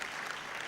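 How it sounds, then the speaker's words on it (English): Audience applause at the launch of child and family protection induction curriculum manuals, a steady dense clapping that fills the short moment on its own. "I will not tire to request a loud round of applause for the CPC."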